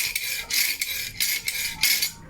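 Repeated scraping rasps of 0.60 mm Orca Team fishing line drawn across a knife blade's sharp edge, about five strokes in a steady back-and-forth rhythm, close and fairly loud.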